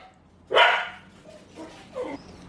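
A dog barks in a home kitchen while breakfast burritos are made: one sharp, close bark, then a couple of softer yips and whimpers in otherwise quiet surroundings.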